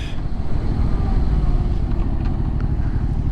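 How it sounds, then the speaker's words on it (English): Track motorcycle downshifting: a steady, loud engine drone with a rumbling low end and faint shifting tones as the revs change, close up, with no talk. "pulling the clutch downshift, only easing out the clutch"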